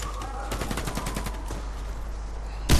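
Repeated gunfire bursts in the shooter Warface during a clan-war ambush, sharp shots clustering in the first half with a louder, closer blast near the end.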